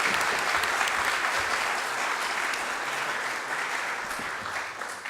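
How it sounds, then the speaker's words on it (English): Steady applause from an audience at a community college district board of trustees meeting, a continuous wash of many clapping hands that fades slightly toward the end. "Give them a round of applause."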